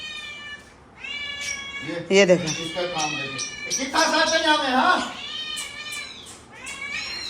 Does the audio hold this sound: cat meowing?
yes